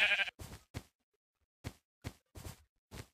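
Repeated sheep bleats from Minecraft, a loud first call followed by six short, evenly spaced bleats with brief silences between them, close and clear with no talking.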